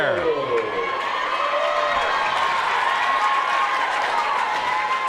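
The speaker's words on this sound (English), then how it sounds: "Wow, the crowd is wild here." Crowd noise swells after a three-run home run at an OHSAA Division VI girls softball state semifinal, a loud, sustained mix of applause and cheering. A commentator talks over it.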